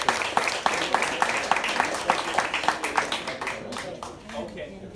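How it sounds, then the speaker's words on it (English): Applause from an outdoor rally crowd at Lakeside Park in Nelson, BC, with regular, fairly close claps and a voice talking over them, fading toward the end. "So let's give a big last round of applause."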